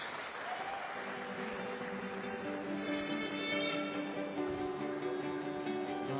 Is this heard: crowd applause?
yes